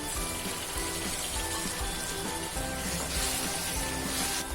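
Onions sautéing in a pan for stuffed parwal curry, a steady, dense, close sizzle and crackle of frying that continues without pause throughout.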